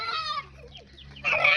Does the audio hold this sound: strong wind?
no